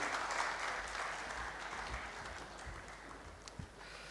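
Audience applause fills a hall at an arts council tribute event in Karachi, steady clapping from a crowd that holds for several seconds and slowly eases off.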